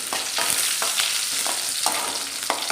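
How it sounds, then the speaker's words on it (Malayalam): Mustard seeds and dried red chilies fry in oil, sizzling steadily at close range, with a scrape or stir every half second or so. "ആ കടുകൊന്ന് പൊട്ടി വരുമ്പോഴത്തേക്ക് ഒരു രണ്ട് വറ്റൽ മുളകും ഒരു രണ്ട് കറിവേപ്പിലയും കൂടെ നമുക്ക് അങ്ങോട്ട് ഇട്ട് കൊടുക്കാവേ"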